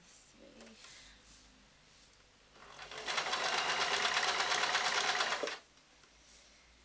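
A sewing machine runs a seam while mending trousers, a dense, even mechanical whir lasting about three seconds up close, framed by a brief spoken word before it and quiet handling around it.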